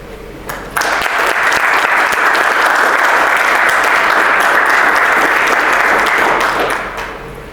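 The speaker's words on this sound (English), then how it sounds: "One last round of applause for Lieutenant Colonel Williams" Sustained applause from a large crowd at an Army promotion ceremony, loud and steady for several seconds before tapering off at the end.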